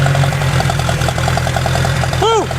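An old abandoned tractor engine, running lean or rich, idles loud and close with a steady, pulsing knock, and a brief squeal rises near the end.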